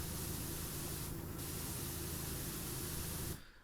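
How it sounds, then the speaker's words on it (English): Pressure washer spraying in the video game PowerWash Simulator, a loud, steady broadband hiss of water jet that runs continuously, then cuts off abruptly near the end, with no talk. "spray that this way"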